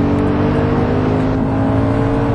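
An Audi RS4 4.2 V8 Quattro engine drones steadily at high revs, a thick, constant mechanical roar close by with no talking.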